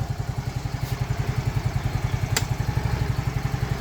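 A Yamaha RayZR 125 Fi scooter engine idles close by, a steady rapid low putter with even pulses and a light mechanical clatter, running alone without talk.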